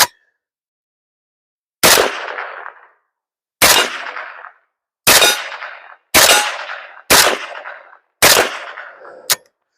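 Six suppressed shots from a Dagger Defense DD01N pistol ring out at irregular intervals, each a sharp crack followed by a metallic ringing clang as the round strikes a steel silhouette target, loud and close with silence between.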